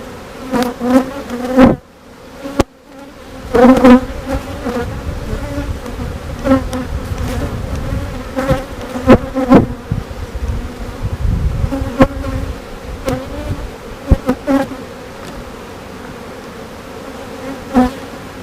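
Honeybees from a swarm box hum in a steady, close buzz that runs throughout, with a few sharper bursts and thumps as individual bees pass near.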